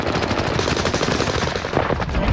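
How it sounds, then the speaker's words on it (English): Rapid automatic gunfire in a battle royale video game match, dense bursts of shots crackling close and loud throughout, with a player's voice briefly in the mix. "Getting shot from the guy beside you."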